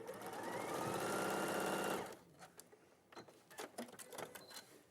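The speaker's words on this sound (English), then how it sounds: "I'm just going to sew the top section together." Sewing machine stitching fabric pieces together at a steady, rapid whirring pace for about two seconds, then stopping, followed by soft handling clicks and fabric rustle.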